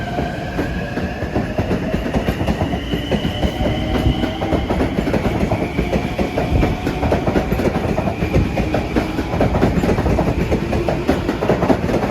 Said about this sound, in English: It's a limited stop train with M9's.